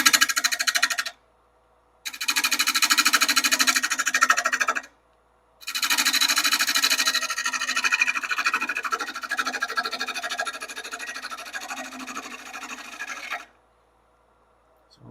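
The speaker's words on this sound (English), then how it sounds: "Get our face shield back on and our 5/8 inch bowl gouge. And we'll clean up that rim." A 5/8 inch bowl gouge cutting a box elder bowl rim on a wood lathe: sustained raspy scraping cuts in three passes separated by short silences, close and steady, the last pass longest.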